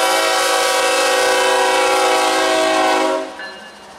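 The Chessie System heritage locomotive 1973 sounds its horn in a long, loud, sustained multi-tone blast while passing in North Baltimore, then the horn cuts off and rumbling fades, with no talk.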